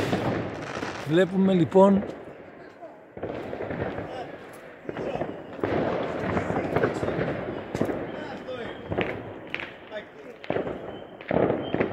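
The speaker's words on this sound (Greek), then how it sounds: "ο καινούριος χρόνος λοιπόν υποδέχεται με βεγγαλικά από τους Αλεξανδρινούς." Fireworks for the 2021 New Year burst repeatedly over Alexandria, with sharp cracks and rumbling booms rolling from various points across the city while someone talks.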